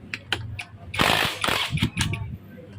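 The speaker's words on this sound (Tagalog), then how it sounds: "Tanggalin natin ang clutch housing gamit ang 19mm socket." A 19mm socket wrench ratchets while taking off the clutch housing of a Kawasaki HD3 motorcycle engine, with a few quick clicks, then a dense burst of metallic rattling and clicking, close and fairly quiet.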